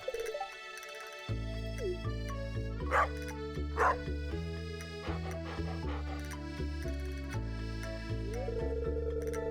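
Dog barking in the video game Stardew Valley: short yipping barks over steady, cheerful game music, with a couple of brighter bursts standing out from the looping melody.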